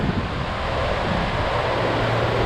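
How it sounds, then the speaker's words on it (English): A fast-moving small river rushing past a roadside stop, a steady broadband wash of flowing water with a low rumble, constant and close throughout with no talk. "Fast moving small river right in here."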